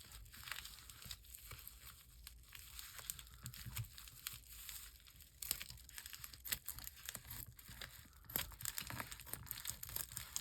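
Scissors cut through a paper envelope flap in a steady run of close, crinkly rustling and snipping, faint and continuous throughout.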